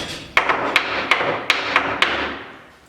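Hard hardtack biscuit knocked against a surface, giving about seven sharp, rock-hard clacks in an uneven rhythm, close and loud, with no talk.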